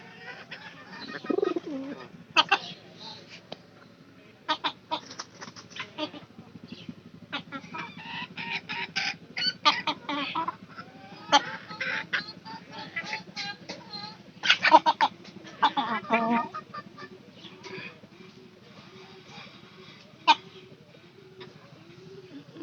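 A hen clucks and calls in short, irregular bursts, fairly close, against quiet background noise with little else happening.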